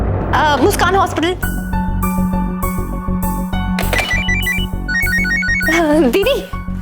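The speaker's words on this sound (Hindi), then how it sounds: "कब से मेरा फोन बज रहा है" A phone rings with a repeating electronic melody, loud and close, while people talk over it at the start and end.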